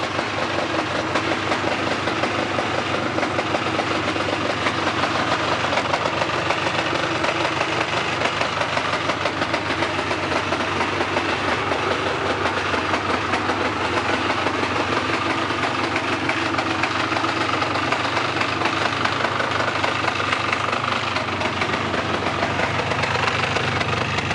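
A Polaris 400L two-stroke snowmobile engine idling nearby, a steady, even rattling putter that holds a constant pace the whole time, with no talking.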